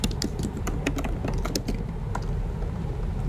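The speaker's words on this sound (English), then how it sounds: "If I could type." Typing on a computer keyboard: quick, irregular clicking keystrokes, close and fairly soft, with no voices.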